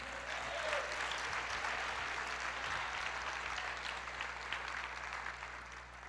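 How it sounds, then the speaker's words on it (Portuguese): Congregation in a church applauding steadily, a dense even wash of clapping from many hands that holds at a moderate level throughout with a low background hum underneath. "Aplauda Ele."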